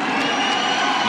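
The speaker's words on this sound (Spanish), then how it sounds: "Aplaude el público." Crowd at a women's South American volleyball championship match between Brazil and Colombia, a steady, loud wash of cheering and applause with scattered shouts, continuous throughout.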